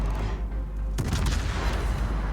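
In World of Warships, aboard the cruiser Annapolis, a heavy naval gunfire blast erupts about a second in, followed by rumbling booms and crackling reports over a constant low engine drone.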